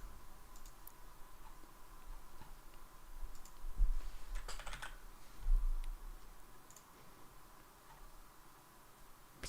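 A computer keyboard is typed on in scattered bursts of light clicking over a steady low background hiss, close and moderately quiet, without any voices.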